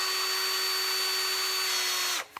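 A handheld power drill spins steadily at high speed with a bright whining tone, running alone and close up before abruptly cutting off near the end.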